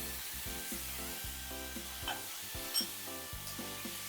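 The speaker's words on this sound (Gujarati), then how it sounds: "હવે એમાં આપણે ટમેટા નાખીશું મરચાં નાખીશું" Chopped tomatoes and chillies go into a pan of browned onions for pasta, giving a steady close sizzle with stirring clatter and a few spoon knocks, with no talking.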